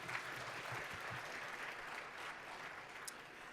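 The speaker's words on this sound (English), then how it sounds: "Can we give them another round of applause" Applause rises from an audience after speakers at a panel on the South African constitution, a steady wash of clapping held at a fairly faint level throughout.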